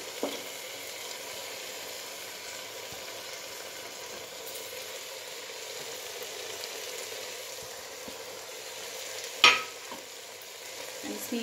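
Beetroot, turnip and other vegetables fry in a pan for a beetroot and turnip mutton curry, with a soft continuous sizzle and light stirring, faint and close, ending with one sharp clink of a utensil.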